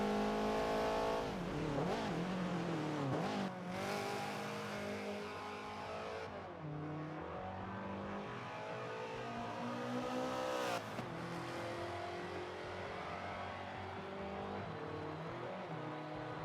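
Subaru BRZ race car screaming through its final lap at Circuit of the Americas in a championship finale, the engine revving hard and continuously with rising and falling pitch through gear shifts, loud and close throughout.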